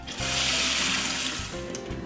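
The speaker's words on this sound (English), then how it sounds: "Rinse your cottage cheese in a fine mesh colander and just continue rinsing it until the water runs clear." Tap water pours steadily into a fine mesh colander to rinse cottage cheese, a loud, continuous splashing rush that cuts out briefly near the end and then resumes.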